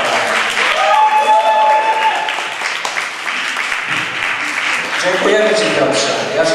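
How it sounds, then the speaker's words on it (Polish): An audience applauds with a broad wash of clapping while a voice talks loudly over it at times. "Poprosimy o bardziej gromkie brawa"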